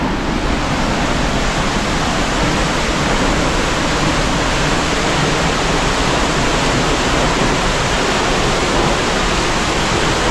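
Mindamora Falls in the Philippines, the country's second-highest waterfall, roaring as a loud, dense, unbroken wash of falling water close up, with no voices over it.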